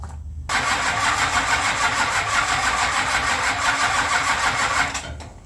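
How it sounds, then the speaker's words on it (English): A Roadrunner car engine cranks over steadily and loudly for about five seconds, a continuous churning starter grind that stays close and even before tapering off at the end. "Let's crank the motor over to number 1 and see what she's got."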